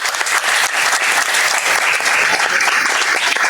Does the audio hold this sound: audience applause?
yes